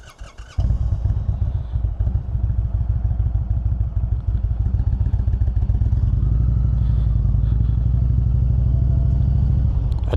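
Osmo Action 5 mounted on a motorcycle, which starts up and settles into a steady, loud, close engine drone that carries through to the end without talk.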